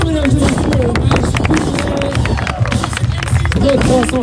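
Beach crowd at a freeriding show on the Côte d'Opale, Sainte-Cécile beach, clapping and cheering in a lively hubbub while an announcer talks over the noise.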